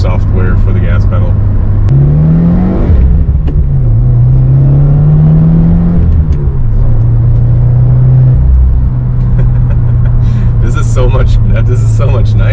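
A Subaru WRX fitted with a throttle response controller revs and accelerates, its engine note climbing and falling through several gear changes, heard from inside the car with a steady rumble and someone talking over it.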